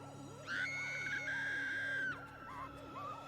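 A female anime character in Samurai Champloo lets out a long, high, shrill scream lasting over a second, cutting sharply above quieter background sound before breaking off abruptly.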